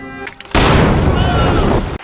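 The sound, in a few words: explosion blowing up a guard fort in a film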